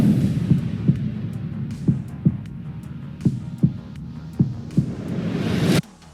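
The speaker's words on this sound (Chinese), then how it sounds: "我要给它添加一个慢动作的音效，这里我选择的是这个心跳的效果" A slow-motion heartbeat sound effect used in an edit: deep, muffled thumps in regular pairs over a low throbbing hum, with a brighter whoosh swelling at the end before it cuts off.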